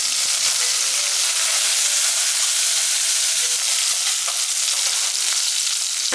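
Onions, garlic and coriander sauté in a hot pan with a loud, steady, close sizzle that runs unbroken throughout, no voices over it.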